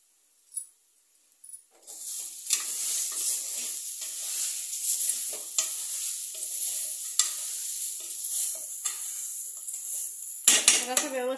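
Spiced cabbage masala rice with Kolhapuri red chilli, salt and cardamom is stirred and roasted in a pan, giving a steady close sizzle with scraping and clinks of a spoon against metal and a sharper clatter near the end.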